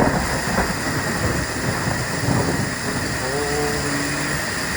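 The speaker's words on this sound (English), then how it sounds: "Man, it's really raining right now." Heavy rain mixed with hail pours down in Southern Oregon as a dense, continuous hiss and patter, loud and close, with scattered thuds and a faint tonal whine partway through.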